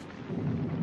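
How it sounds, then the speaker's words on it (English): Brief low rumble of thunder in a storm, swelling over under a second into a muffled, deep roll with some rain-like hiss on top. "I've never seen such a storm."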